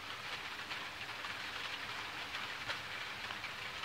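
Heavy rain pours down steadily in a loud, dense, unbroken wash during a rare thunderstorm in Crestline, California, with no voices.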